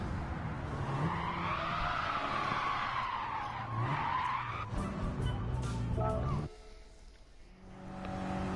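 Car tyres squeal and skid under late braking on comfort tyres in the Gran Turismo 7 racing game. A sustained, wavering screech rides over the engine drone, then cuts to a quieter engine hum near the end.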